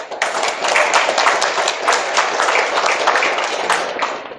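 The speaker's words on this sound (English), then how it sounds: "let's give everybody a round of applause up here" An audience at a public board meeting breaks into sustained applause, a dense, steady wash of many hands clapping at once, loud and close, holding evenly for several seconds without any talk.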